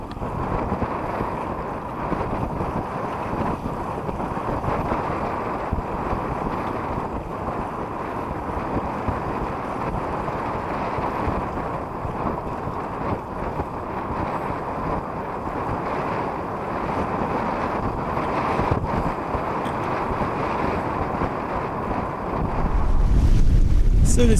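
Steady wind roar over water with continuous rushing and fluttering from a sailboat's flapping mainsail, loud and unbroken, swelling slightly toward the end.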